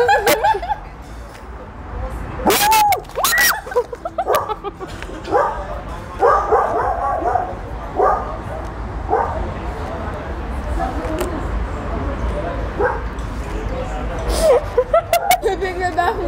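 An excited dog barks and yips in sharp, loud bursts close by during a hamburger eating session, mixed with people talking and laughing over it.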